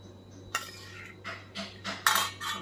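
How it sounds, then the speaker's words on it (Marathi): Masala being stirred into raw mango pieces for pickle gives a series of close, bright scraping and clinking strokes of a utensil against a metal bowl, in uneven bursts. "आता आपण हा मसाला ह्या फोडींवरती ओतणार आहोत चांगला हलवून घेऊया"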